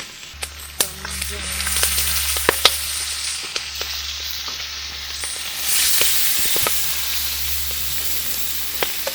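Pork belly sizzles in a frying pan at a lakeside hilltop campsite, a steady crackling frying hiss with scattered sharp pops, close and fairly loud over a low background hum, with no talk.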